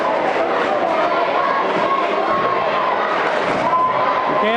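High school boys' basketball crowd in the stands on a Tuesday night near Christmas, a loud constant din of chatter, shouts and cheering that fills the gym, with voices talking over it.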